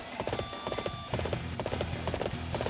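Horse hooves gallop in rapid, rhythmic clip-clop beats in the Dynasty Warriors 8 video game, steady and fairly near, with an occasional faint whinny.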